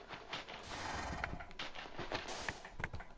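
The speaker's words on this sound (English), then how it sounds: "And you're just keeping a horse in an enclosure." A horse in the Minecraft video game clops along steadily, its hooves set against a dense, noisy background with no talking.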